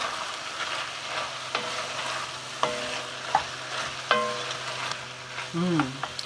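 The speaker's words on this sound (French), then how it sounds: "On va mettre une belle cuillère à soupe de curcuma. On mélange." Turmeric being stirred into cucumber curry frying in a pan, a steady sizzle with repeated scraping strokes of the spoon against the pan, close and alone.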